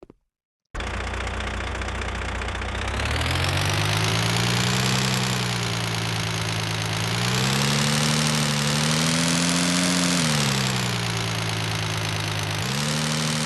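A modified Toyota car fitted with a silencer, in a driving video game, drones steadily after a short silence. Its engine pitch rises and falls in smooth revving swells, loud and continuous, with no speech.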